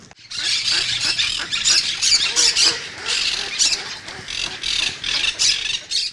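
A rescued young male pelican squawks in a dense, continuous run of harsh, raspy calls, close and loud, with the squawks repeating in uneven bursts from start to finish.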